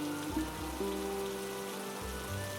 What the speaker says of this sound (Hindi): एक दिन अचानक से जोरों की बारिश शुरू हो गई।